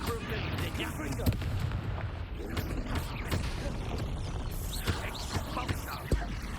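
Confringo spell blasts from Hogwarts Legacy combat burst out in a busy, clattering mix, with several sharp explosive hits amid creaks and mechanical rattles, a pronounced thump near the end, and a voice in the fray.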